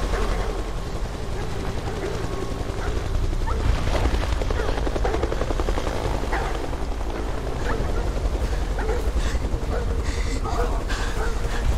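Loud, steady helicopter rotor roar in Beyond: Two Souls fills the scene, with bursts of gunfire and barking mixed in, and a voice talking over it.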